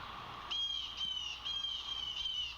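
Several birds call outdoors on a morning, likely crows, in a string of repeated high chirping, cawing phrases that rise above a steady background hush, fairly close and without any talk.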